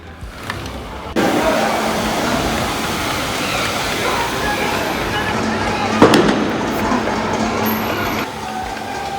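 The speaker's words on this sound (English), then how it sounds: "I just heard a gunshot." Dense, continuous crackling and popping outdoors during the Myanmar military coup, with a sharp loud gunshot near the middle, steady background rumble throughout, and voices faintly present.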